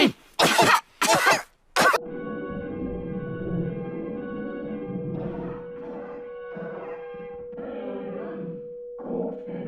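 A cartoon character gives three sharp, harsh coughs close up. A sustained tonal musical phrase follows, playing on alone.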